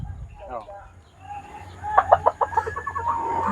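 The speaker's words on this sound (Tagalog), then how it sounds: "Itong manok, sa'yo yan." A chicken clucks in a quick series of sharp, close calls after a brief quieter stretch, with faint background noise and no clear speech over it.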